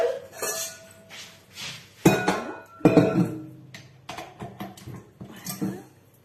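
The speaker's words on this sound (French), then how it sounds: "Je vais juste prendre mon deuxième bol" A ceramic bowl picked up in a home kitchen while making mascarpone pastries, with a string of sharp clinks and knocks of dishes and utensils, a few loud close impacts among lighter taps.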